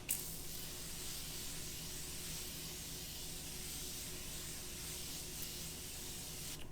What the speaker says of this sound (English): I'm going to spray my face down again.